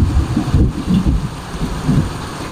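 Heavy rain pours down in a loud, dense roar, with deep rumbling bursts like thunder rolling under it.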